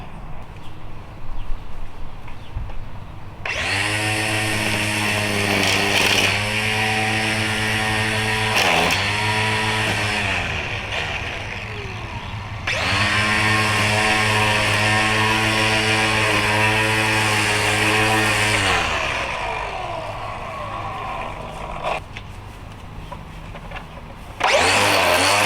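A Black & Decker GrassHog battery string trimmer runs loud and close in two long bursts of a steady high electric whine, separated by a brief spin-down, and no one talks.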